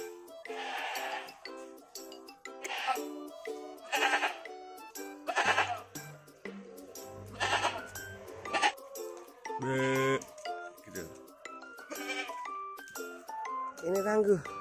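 Goats bleat repeatedly before feeding, several loud nearby calls with short pauses between them, along with some low grunting and scattered background noise.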